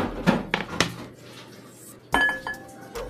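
Garlic and onion dropped into a bowl holding two eggs, heard as sharp clinks and knocks of utensils against the bowl, a few spaced taps followed by a louder clatter.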